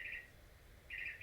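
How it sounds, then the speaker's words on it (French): A cuckoo-style hourly clock in a chalet, which plays a different bird call each hour, gives two short, bright chirping bursts, one at the start and one at the end, over a quiet room. "dans le chalet où on est, il y a une horloge, puis à chaque heure, il y a un oiseau différent qui sonne."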